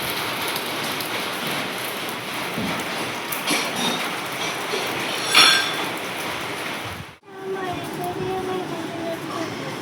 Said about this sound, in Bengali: এই শুরু হয়েছে আবার বৃষ্টি।